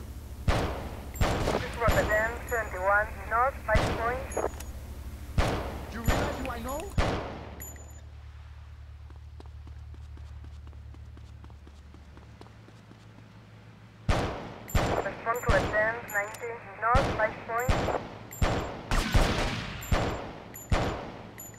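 Pistol gunfire during a rampage in GTA Vice City: sharp single shots in bursts, with a steady background hum and musical tones between volleys, loud and close.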